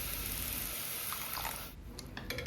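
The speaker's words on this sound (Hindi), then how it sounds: "बस इसे थोड़ा सा मिक्स करके हल्का सा पानी ऐड करेंगे" Water is poured into a beetroot, coconut and salt mixture in a home kitchen, a steady close trickle that thins and stops partway through, leaving a few small clinks.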